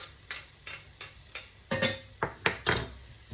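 A utensil stirs softened onion and crushed garlic frying in a pan, making about ten sharp scrapes and clinks in a steady rhythm over a faint sizzle, with no talking.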